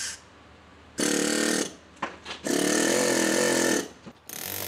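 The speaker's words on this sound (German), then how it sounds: "Um kleinere Steinstücke gezielt abschlagen zu können, benutzt Kim einen Druckluftmeißel." Loud, sustained rattling bursts of a pneumatic chisel chipping away at a stone sculpture, two long runs split by short stuttering taps and a brief pause, close and harsh.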